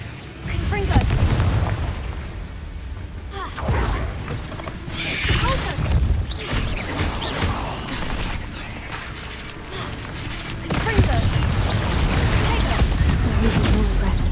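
Confringo fire spell blasts in the Hogwarts Legacy video game, a run of loud booming bursts over a dense rumbling battle backdrop that swells again near the end, with a voice speaking at times.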